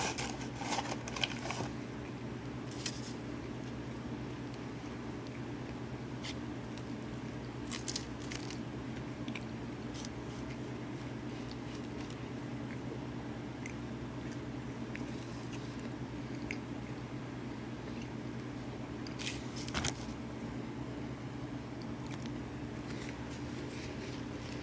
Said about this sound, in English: I'm eating a patty melt from Whataburger.